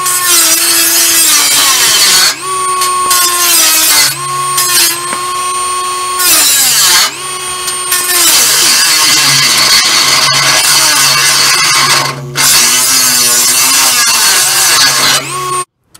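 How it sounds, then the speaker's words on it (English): A Dremel cutoff disc grinds through metal while modifying a car's exhaust, a loud continuous high-pitched whine with shifting tone, broken by several brief pauses and restarts. "I'm eating through these little discs from the Dremel like they're not even there, but it's making progress."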